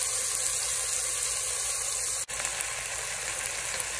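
Potatoes and broad beans fry in a pan, making a steady close hiss and sizzle that continues without a break.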